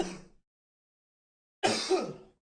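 A man coughs twice, one brief cough at the start and a harsher, throaty cough after a second of silence, close and clear.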